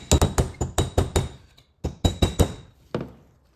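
Repeated solid metallic hammer blows driving a bearing race into place on a truck during a gear oil leak repair, delivered in two quick bursts of about eight strikes with a pause between and one final hit, close and loud.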